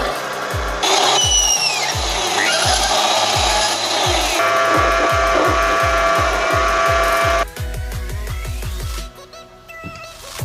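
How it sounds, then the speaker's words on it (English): Bandsaw cutting 303 stainless steel threaded rod, a steady loud grinding whine over evenly repeating low rhythmic pulses, with a shift partway through and a brief pause near the end. "I used the parting tool to cleanly remove the thread before cutting the sections with the bandsaw"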